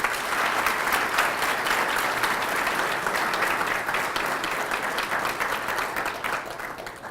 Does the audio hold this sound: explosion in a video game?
no